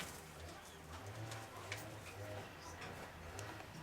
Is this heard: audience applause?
no